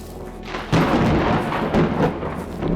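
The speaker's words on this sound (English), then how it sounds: "Bit of a storm coming." A heavy thunder rumble rolls in during a storm in the survival game SCUM, a loud, sustained low roar that swells abruptly and keeps churning with a rain-like hiss and no speech.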